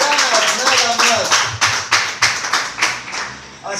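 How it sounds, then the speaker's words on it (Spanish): Church congregation clapping in rhythm, a series of distinct loud claps about every third of a second, with talk over the clapping and the claps fading out at the end. "Denle un aplauso al Señor."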